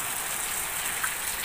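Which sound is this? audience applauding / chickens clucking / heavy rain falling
heavy rain falling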